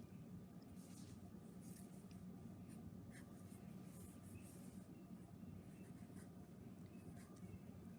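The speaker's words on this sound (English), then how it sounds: "you can draw letters, numbers, you can even draw symbols" A pen scratching letters, numbers and symbols onto paper in a steady run of soft, close strokes over a constant low background rumble.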